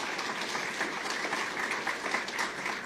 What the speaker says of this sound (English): And also a big round of applause for former Senator Roy Blunt,